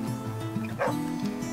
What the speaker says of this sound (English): Can you stop barking at things that aren't there?